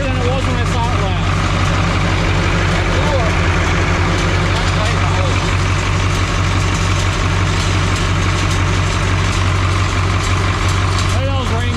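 A repowered M&W Super 80 tractor engine runs steadily at idle, a loud continuous low rumble with a mechanical hum throughout, with voices talking faintly over it now and then.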